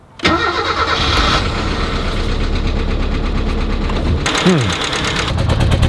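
A Mazda 323 GT barn find, unstarted for 27 years, cranks and catches close by, then runs rough with an uneven putting idle, revving briefly near the end; a voice seems to speak over the engine.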